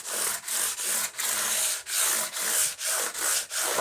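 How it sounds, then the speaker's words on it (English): Rhythmic back-and-forth rubbing of a 400 grit pad across guitar frets, about nine even strokes in under four seconds, close and steady with no talking. "this is a 400 grit pad, and I'm just going to very lightly just work up and down"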